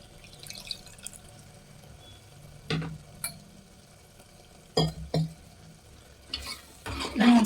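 Tamarind juice simmering in a pan gives a quiet, low bubbling bed, broken by a few sharp scrapes and knocks of a spoon stirring it, clustered toward the end.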